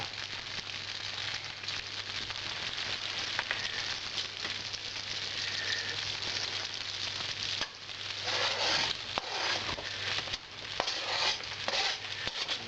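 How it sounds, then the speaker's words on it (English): Onions frying in butter in a pan give a steady, close, crackling sizzle that swells louder and more spattery in the later part, with no voices. "get our big chunk of butter in the pan. We start cooking down. Alright, we'll add our onions to that."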